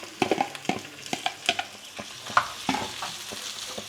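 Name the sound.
okra added to pan and stir-fried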